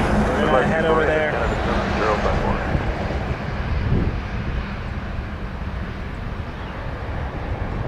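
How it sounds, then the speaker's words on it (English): An Emirates airliner at Toronto Pearson airport produces a broad jet roar that is loudest at first and then eases slightly, mixed with gusty wind buffeting the microphone. "Emirates is coming."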